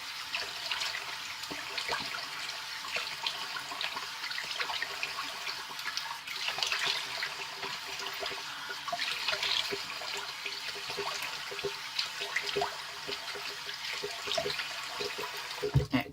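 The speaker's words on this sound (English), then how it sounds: "And now I'm going to drain that sink and do my cold water rinse." Water drains from a bathroom sink in a soft, continuous trickling gurgle, faint and steady throughout.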